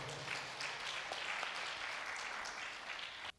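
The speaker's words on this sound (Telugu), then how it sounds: "అటువంటి ఆ స్టెప్ తీసుకున్నటువంటి బ్రాండ్ అంబాసిడర్స్ అందరికీ గట్టిగా చప్పట్లు కొడదాం" An audience claps steadily and fairly loudly for brand ambassadors at a Pyramid masters' gathering in Mathura, a dense continuous wash of hands that breaks off abruptly at the end.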